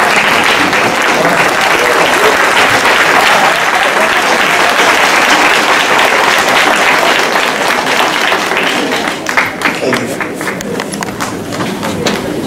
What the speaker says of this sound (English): Please stand with me as we applaud the Tuskegee Airmen for their fight in the war and against racial discrimination.